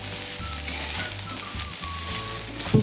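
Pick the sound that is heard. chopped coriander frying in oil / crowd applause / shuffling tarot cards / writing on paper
chopped coriander frying in oil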